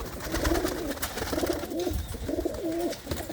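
Pigeons kept by a Punjabi fancier in Lambu Mahmoodpur coo in three distinct rolling phrases, each a soft, throaty warble, heard close over a faint outdoor background with no one talking.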